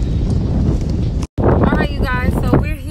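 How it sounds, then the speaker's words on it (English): Strong wind at a beach buffets the microphone with a loud, continuous rumbling roar, and someone talks over it after a brief dropout. "It's very windy."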